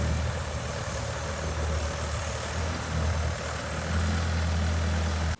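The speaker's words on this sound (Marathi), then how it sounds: "ट्रॅक्टर आलंय, चिखल करायचं काम चालू आहे." A tractor engine runs steadily, churning a flooded rice paddy into mud during transplanting season in rural Maharashtra; a low, continuous diesel rumble holds close and constant throughout with no talk.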